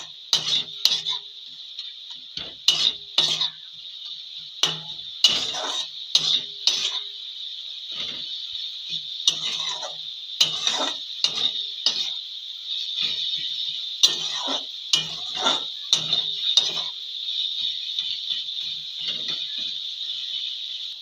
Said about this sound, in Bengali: নেড়ে দেবো আমি।